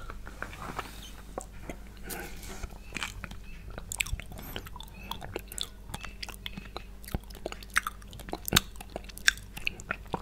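Chewing and biting on blueberry Thai jelly drink, close and quiet, with many small sharp wet clicks and crunchy bites in an irregular patter, no speech.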